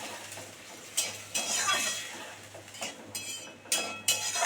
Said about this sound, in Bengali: এটাকে আমি এবার ঢাকা দিয়ে দেবো।